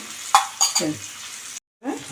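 Tempering spices for gongura curry, with curry leaves, onion and garlic, sizzle in a pan while a spoon stirs in short scraping strokes, close by, before a brief silence and more sizzling.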